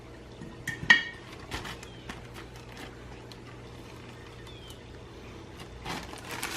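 Corn kernels being stirred with sugar in a metal pot, giving scattered clinks and scraping taps near and fairly quiet, with one sharper clank early on.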